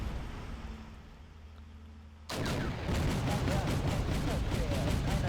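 Gunfire rings out in the Cold War strategy game Wargame during an East German attack, a dense stream of rapid crackling shots starting abruptly after a quiet low rumble and continuing steadily to the end.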